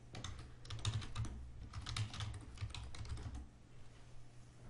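Keys on a computer keyboard are typed in quick, irregular bursts of soft clicks as a username and password are entered at a login screen, faint and close with no talking.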